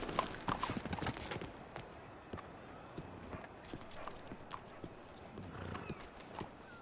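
A horse's hooves clip-clop on a hard surface in an uneven, plodding rhythm, with a whinny or two near the start and faint background voices.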